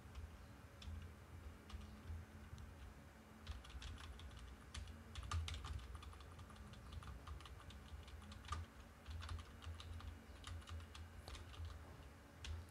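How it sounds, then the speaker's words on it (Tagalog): Computer keyboard keys tapped steadily in irregular bursts while playing God of War on a PSP emulator, the clicks close and crisp over a low background hum. "kinakapa ko lang yung controllers niya dito sa keyboard"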